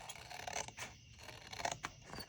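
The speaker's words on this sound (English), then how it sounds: "I'm just gonna take my scissors and just cut" Quiet snipping and rasping of scissors cutting paper, a few soft strokes close by with no talking.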